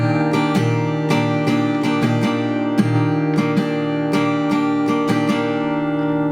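Steel-string acoustic guitar strummed in a simplified rhythm with one finger held down throughout, steady chord strokes ringing clearly up close, no voice over them.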